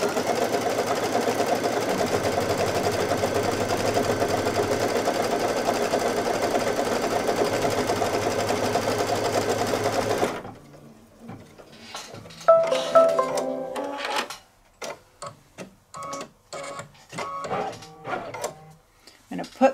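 An embroidery machine sews the batting tack-down stitch, a fast steady mechanical whirring and rattling for about ten seconds before it stops, followed by quieter clicks and handling noises of someone working near the machine.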